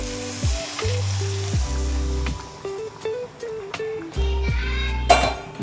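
Hot water, about a litre, poured into a pan of chicken frying in oil over high flame, giving a loud hiss and sizzle with bubbling and a few metallic clinks of stirring.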